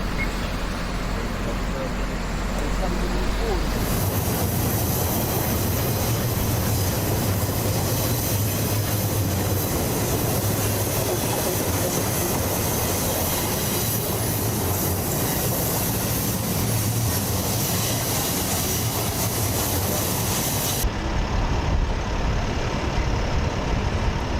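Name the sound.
self-moving railroad cars rolling in Beverwijk, Netherlands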